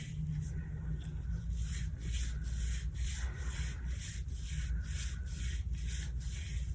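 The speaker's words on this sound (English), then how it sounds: "Circle one hand around the other and scrub your wrists back and forth." Gloved hands coated in black paint scrub the wrists back and forth, giving a repeated rhythmic rubbing swish, close and fairly quiet, with no talk.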